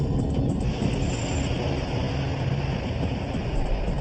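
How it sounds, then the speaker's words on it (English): An airliner in flight during a very wide right turn gives a steady, loud broadband engine roar with deep rumble, continuous and unbroken, with no voices. "The plane goes into a very wide right turn."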